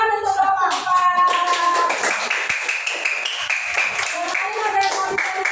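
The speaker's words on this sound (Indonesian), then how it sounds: "tepuk tangan untuk kelompok 4" A classroom group claps hands together in a sustained round, with children's voices and chatter mixed in over the clapping.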